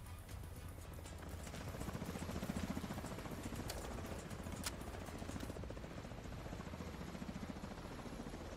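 Helicopter in the video game The Division 2, a steady rotor chop with rhythmic thumping that holds throughout over a low engine rumble, moderately loud and continuous.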